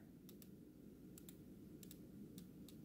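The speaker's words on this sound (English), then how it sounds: "It has a really nice soft clicking sensation right here, and it is bi-directional" A Bremont watch's bi-directional rotor turns with soft, close, crisp clicks that come in small pairs and clusters, isolated against a quiet room background.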